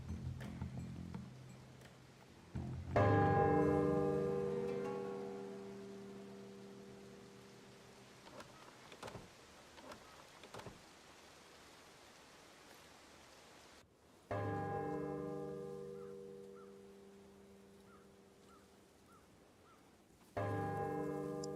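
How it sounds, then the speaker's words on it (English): A deep temple bell in the stealth game Shadow Tactics: Blades of the Shogun strikes three times, each toll ringing loud and slowly fading over a soft, rain-like ambient background. "The bell."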